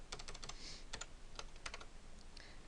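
Rapid, irregular keystrokes on a computer keyboard, close and fairly quiet, in short bursts with brief pauses and no talking.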